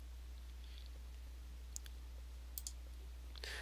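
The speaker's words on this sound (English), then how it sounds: "When you click OK" A computer mouse clicks softly on an OK button, giving two or three faint, sharp ticks spread over a few seconds against a quiet background hum.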